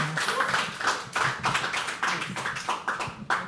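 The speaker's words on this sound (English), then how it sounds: "Can we start clapping for Adnan?" An open-mic poetry audience claps for a poet, a dense burst of hand claps in uneven waves that carries on steadily for a few seconds, close and fairly loud, with no talking over it.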